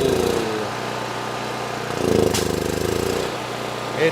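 A small snow blower or generator engine runs with the choke off in a garage, a steady, loud mechanical drone with a rough, uneven edge that surges briefly midway before settling.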